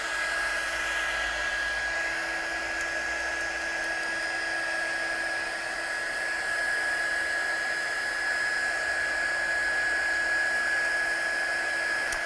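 A heat gun in a craft studio blows steadily while drying and melting embossing powder on a card, giving a constant whirring, high-pitched electric hum with no breaks.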